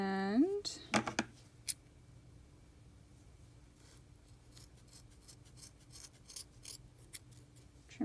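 Scissors trimming yarn tassels: a few sharp snips near the start, then quieter intermittent snipping and rustling of the yarn, close by and faint, with a person talking.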